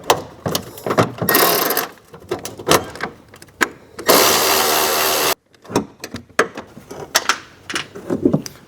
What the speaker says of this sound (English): The best method to do it is either with a wobble socket or with an automatic ratchet like this.